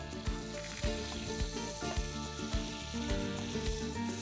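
Butter and olive oil sizzle steadily in a pan, a constant close hiss with soft periodic clicks and ticks, no voices.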